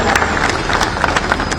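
Audience clapping at a political speech in Bhopal, a steady continuous patter of many hands with crowd noise, loud and sustained throughout.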